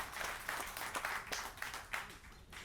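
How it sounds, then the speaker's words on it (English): Applause for Councilwoman Yolanda Haynes at the Southfield Police Memorial, scattered clapping from a gathered crowd that stays fairly quiet and distant, swelling in soft bursts over a few seconds. "Yolanda Haynes, everybody. Give her a round of applause."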